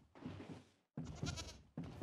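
A goat bleats in a Minecraft game, two drawn-out, wavering cries close and loud, separated by a brief pause, with a third starting at the end.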